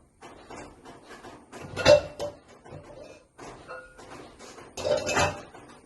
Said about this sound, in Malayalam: നമുക്ക് ഈ ചോറൊന്ന് ഇളക്കി കൊടുക്കാം.